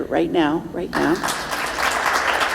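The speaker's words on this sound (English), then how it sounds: "everyone should actually applaud her this year" Audience applause at a gala event rises as a broad, dense wash right after a brief spoken phrase and continues steadily to the end.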